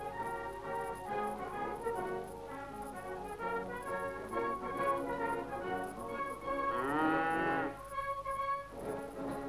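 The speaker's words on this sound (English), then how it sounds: "he inspects a herd of Frisian cattle bought by the Barbados government from Canada to supplement the local dairy industry" A herd of imported Canadian Frisian dairy cattle on a Barbados livestock farm, several long, drawn-out moos overlapping one after another, fairly close and clear over a faint background hum.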